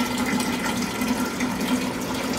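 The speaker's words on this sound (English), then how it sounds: "start filling it with filtered water now" Filtered water pours steadily into a glass jar, a continuous close splashing stream with no voices.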